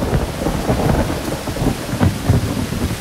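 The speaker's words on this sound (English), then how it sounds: "There is a wide variety of thunder sounds due to the varying size of the clouds" Deep thunder rumbles and rolls through a thunderstorm over heavy, steady rain, loud and continuous with no voices.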